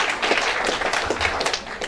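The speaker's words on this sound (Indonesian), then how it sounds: "Mari kita sambut pencapaian mereka dengan tepuk tangan sebagai tanda penghargaan atas kesuksesan mereka." Dense, steady applause from a graduation ceremony audience fills the hall, a broad wash of many hands clapping at once with no voices on top.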